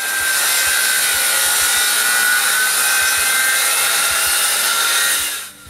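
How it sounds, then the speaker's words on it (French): A continuous high whine of a circular saw cutting through styrofoam, steady and loud, ending abruptly near the finish. "Je coupe l'autre avec ma scie circulaire, ce morceau de styrofoam."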